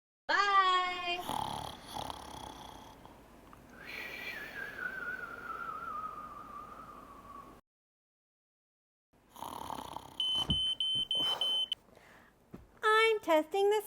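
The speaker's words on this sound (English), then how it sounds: "I'm testing the smoke alarm." A smoke alarm is tested at a fire station, giving a piercing electronic tone amid sparse sounds and brief gaps of near silence.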